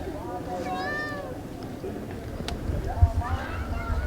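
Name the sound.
cats meowing while being fed rice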